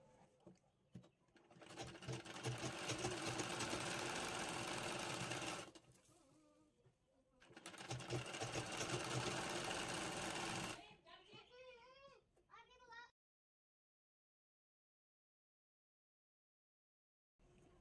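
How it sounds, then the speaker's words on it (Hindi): A domestic sewing machine stitches a strip onto a blouse neckline in two loud, steady bursts of several seconds each, separated by a short pause, followed by quieter handling sounds and then silence. "तो यहाँ पे पहले एक सिलाई मार लेनी है इसके ऊपर"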